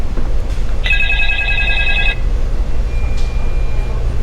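A telephone rings for an incoming call: one electronic ring burst of about a second, fairly loud over a constant low rumble of background noise, followed by quiet.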